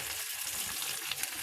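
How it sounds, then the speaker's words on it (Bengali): Chopped onion fries in a pan with a steady, dense crackling sizzle throughout, close and continuous with no voices. "পেঁয়াজটা একটু ভেজে নেব"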